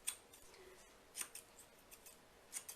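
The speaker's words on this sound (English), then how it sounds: "with the thinning scissors" Soft, quiet snipping of thinning scissors through short hair, a few light cuts spaced irregularly and close by.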